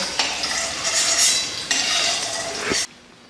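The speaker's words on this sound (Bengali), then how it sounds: "আর এদিকে হচ্ছে পনির ভাজা" Paneer frying in a pan on a gas stove, with a bright sizzle and scraping stirring strokes. There is a brief break partway through and then it cuts off sharply near the end.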